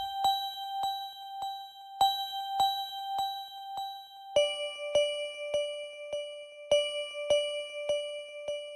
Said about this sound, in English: I used Pretty Bell from Purity, loaded that up, sounds like this.